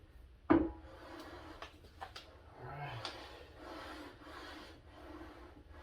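A sharpening stone rubbed over machined metal to deburr it, after one sharp knock near the start, then soft, quiet rasping strokes in a steady back-and-forth rhythm in a workshop.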